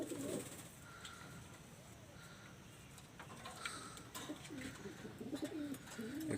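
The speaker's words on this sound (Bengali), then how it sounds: "আমি আপনাদের একটা কবুতর দেখাচ্ছি চুয়া এবং গোল্ডেন দিয়ে তৈরি করা" Pigeons in a loft, including a cross of Chuya and Golden breeds, give soft repeated coos that come and go in low rolling phrases, with other birds calling faintly in the background.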